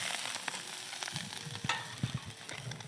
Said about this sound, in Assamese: এতিয়া মই এইটো অলপ মানে ফ্ৰাই কৰি আছোঁ